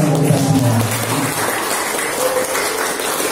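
Applause from an audience at a school event for SMP Negeri 2, with dense clapping that continues steadily throughout. A low voice sounds under it at the start.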